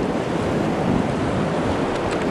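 A raft paddling through whitewater waves on a stormy river run, a loud continuous rush of churning water and wind noise close to the microphone, with no distinct paddle strokes standing out.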